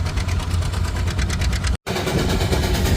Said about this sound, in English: We're going to sit here and let this steam engine come